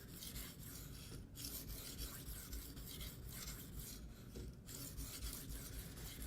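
Freehand sharpening of a Spyderco Endura blade with K390 and S30V steel on a stone, steady rasping strokes grinding continuously and close, with brief pauses between passes and no talking.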